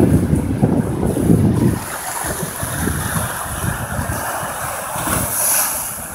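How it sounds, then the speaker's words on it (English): Big, rough ice-cold ocean waves crash and surge at close range, a heavy roar in the first two seconds easing into churning surf under gusty wind buffeting the microphone, with another swell rising near the end. "Dude, these waves are fucking huge, dude."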